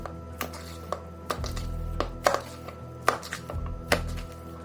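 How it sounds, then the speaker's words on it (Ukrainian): Repeated heavy thuds on a board at an uneven pace, close and loud, as minced fish is slapped and beaten by hand. "Фарш потрібно трішки відбити"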